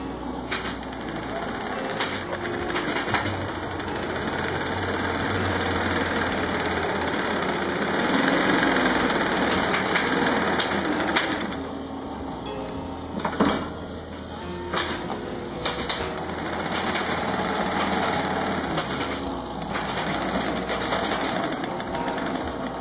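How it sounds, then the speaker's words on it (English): A tape edge sewing machine hums and whirs steadily for a long stretch, with rapid mechanical stitching clatter and brief pauses, a voice occasionally speaking over it. "you need our special tape edge sewing machine, which Pat here is going to demonstrate"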